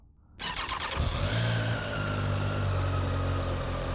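After a brief quiet moment, a Triumph Daytona 660 motorcycle engine fires up and settles into a steady, loud, close rumble with slight revving, no voices.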